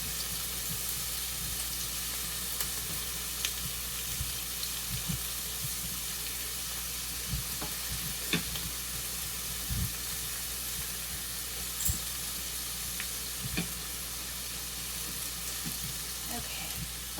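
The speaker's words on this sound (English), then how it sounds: "We are going to put in our butter. And let it kind of melt." Butter melts in a hot Instant Pot with a steady, close sizzle and soft frying crackle that holds evenly throughout, with small pops scattered over the hiss.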